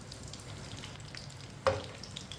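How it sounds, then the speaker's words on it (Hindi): Green chillies hit hot oil in a pan for an onion sabzi, a soft steady frying hiss with one sharper sizzling burst partway through, close and without talk. "सब्ज मिर्च डालेंगे।"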